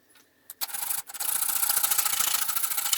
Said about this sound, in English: I took a sanding disc and my drill and just sanded over the top of them.